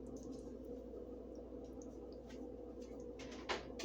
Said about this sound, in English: Can y'all hear that macaroni bubbling?